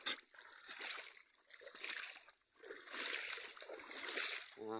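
Someone wading through floodwater in a rice field flooded by a storm, with repeated close sloshing splashes rising and falling in an uneven rhythm.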